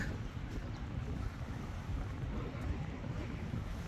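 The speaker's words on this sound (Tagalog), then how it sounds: "tingnan nyo yung hampas ng alon" Waves break and surge along a seaside shore in Kuwait, a steady broadband wash of surf mixed with gusting wind buffeting the microphone, continuous and fairly loud throughout with no voices.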